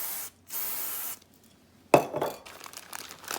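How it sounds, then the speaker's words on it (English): Two short hissing bursts of Hornady One Shot case lube spray onto an RCBS cleaning pad, followed by a sharp clink and light rustling as the can is set down, all close and quiet with no talk. "Have Hornady lube, 1 shot. Just spray some on this pad."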